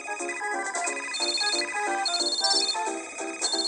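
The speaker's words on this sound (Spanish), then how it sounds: "Aquí hay teléfonos para responder." Telephone ringtone from the Toca Life World game, a bright repeating electronic melody with steady rhythmic pulses, loud and clear with no talking.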